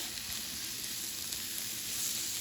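Butter sizzles with onions and mushrooms in a pan: a continuous, even hiss, fairly quiet and close, with no voices.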